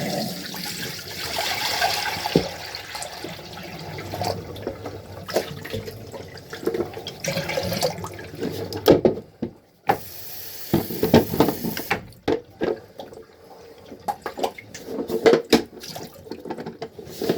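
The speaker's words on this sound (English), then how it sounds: "Drain this right down the sink." Water scooped out of a toilet during a toilet replacement is poured down a sink drain, with pouring, splashing and gurgling sounds that stop for a moment and then resume in short bursts.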